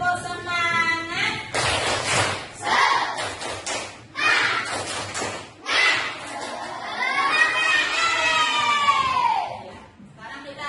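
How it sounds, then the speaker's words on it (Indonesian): Schoolchildren in a classroom clap a rhythmic chant in bursts, alternating sharp group claps with a teacher's voice leading and the children calling out. "Kita tepuk semangat dulu."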